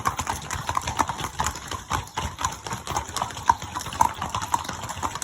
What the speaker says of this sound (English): A whole bunch of horses.